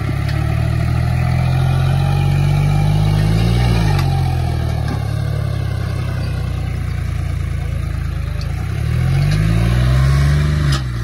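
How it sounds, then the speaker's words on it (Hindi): A tractor engine pulling a harrow through mud: a loud, steady mid-pitched drone with two swells in revs, close and continuous, no speech. "देखेंगे सुमित वाला ट्रैक्टर कौन से गियर में चलाओगा भाई"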